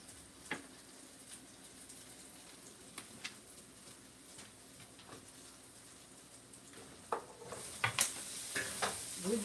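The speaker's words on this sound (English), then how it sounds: "get the spinach stirred up here" Spinach stirred in a sizzling pan during home cooking with French onion chicken, a steady quiet fry hiss broken by scraping and clattering utensil strokes that grow busier toward the end.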